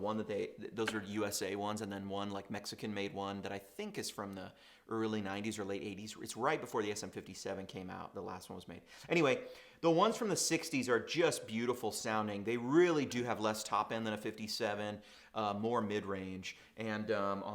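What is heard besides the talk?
No distinct noise like a dog, phone or traffic.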